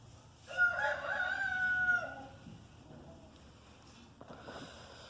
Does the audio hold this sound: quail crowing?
yes